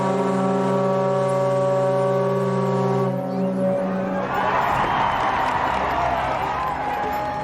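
Titanic's steam whistles blown outdoors in a long, deep, chord-like blast that holds steady before cutting off, followed by a crowd cheering and applauding loudly.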